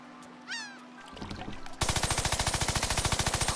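An Uzi fires in Worms Revolution as a loud, rapid burst of evenly spaced shots, preceded by cartoonish game sound effects and rising clicks.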